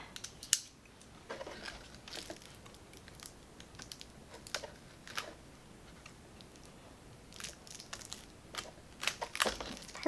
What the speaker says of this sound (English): I'm gonna have to do some more cutting.